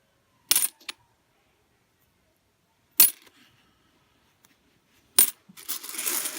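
20-cent coins tipped from opened coin rolls land in three quick metallic clatters spread over several seconds, separated by silence, the last followed by a lingering clinking jingle.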